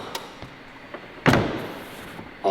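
A single solid thud of a McLaren car door shutting nearby, with a few light taps around it and another bump at the end.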